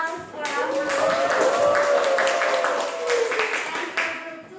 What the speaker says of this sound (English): Give applause for our